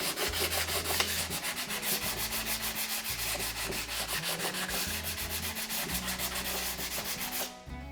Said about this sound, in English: So all we need to do is just sand it off.